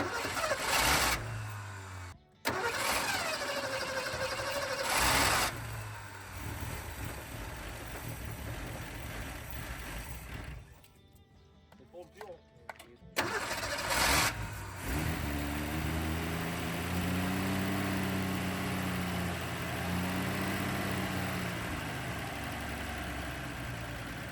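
An old car engine that sat unused for 35 years runs at idle, close and fairly quiet, with a few brief revs and pauses before settling into a steady rumble.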